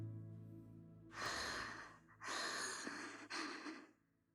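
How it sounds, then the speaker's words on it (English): A character in Zenless Zone Zero breathes close into the ear. Three soft, intimate breaths are heard, deep inhales and exhales with short pauses between them, and there is no talking. "Why are you breathing in my ear?"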